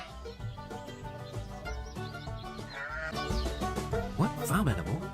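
Farmyard fowl calling near the microphone, a run of nasal honking quacks that grow louder and more insistent toward the end, with a voice faintly mixed in.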